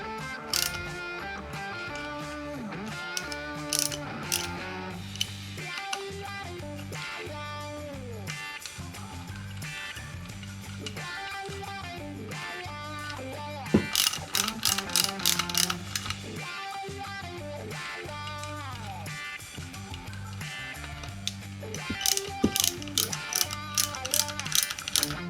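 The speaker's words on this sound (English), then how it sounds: "Then we just sort of slightly tighten them up a little bit in a crisscross pattern." A ratchet wrench snugs the oil pump bolts on an Evo motor in a crisscross pattern, heard as bursts of rapid, close clicking with short pauses between, then louder quick ratcheting runs near the end, with no speech.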